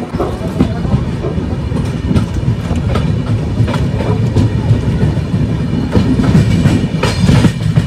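A long-distance passenger train rolls into platform 2 at Kishanganj station, its wheels clattering loudly and steadily over the rail joints with a heavy rumble, close by and continuous.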